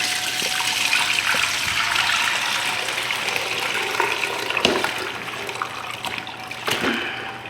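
Liquid from thawed frozen garden tomatoes pours steadily into a pot for tomato sauce, a continuous close trickle and gush with a couple of sharp clinks partway through.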